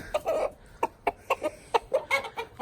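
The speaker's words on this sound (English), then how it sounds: "This is our chooks. Got a whole lot of chooks in here" Chickens in a backyard coop clucking in a quick, uneven series of short, close calls, a dozen or so sharp bursts over a quiet background.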